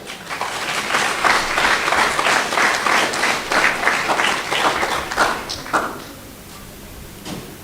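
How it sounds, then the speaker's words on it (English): An audience claps for students, a dense round of applause that holds for several seconds, thins into a few scattered claps and then fades out. "We applaud those students."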